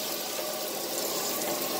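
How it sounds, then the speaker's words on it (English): Water runs steadily from a kitchen sink tap onto a pan, a close, continuous broadband hiss and splash with no talking. "If I laid the pan in the sink, and go ahead and get some water on it,"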